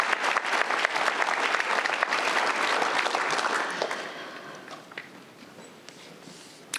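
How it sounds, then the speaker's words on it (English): A community meeting audience breaks into dense, loud applause that then thins out and dies away into a few scattered claps. "So you deserve an extreme round of applause"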